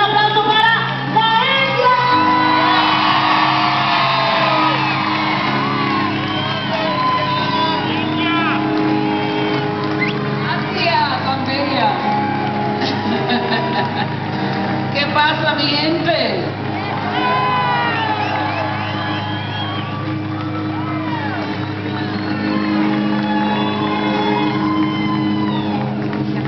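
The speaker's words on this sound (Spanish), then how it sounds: "Un aplauso bien fuerte para un artista que a mí me fascina." A live salsa concert crowd at Viva la Música 2014 cheers, whoops and shouts loudly, a sustained roar of many voices with whistles and a host's voice over it.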